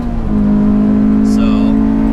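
A modified Honda S2000 engine drones steadily at a sustained pitch with a throaty aftermarket exhaust note, loud and close, with a brief higher whine partway through.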